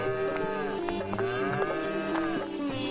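A pair of bullocks bought at a village fair lowing, repeated deep moos overlapping one another, loud and close in a rural setting.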